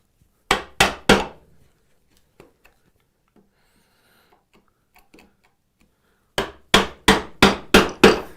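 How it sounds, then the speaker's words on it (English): Sharp mallet strikes drive a 1/8 inch mortising chisel into wood to clean out a mortise, a quick burst of three loud knocks, a quiet stretch with faint taps, then a run of five evenly spaced blows, close and alone. "I have an 1/8 inch mortising chisel. This is great for cleaning out junk."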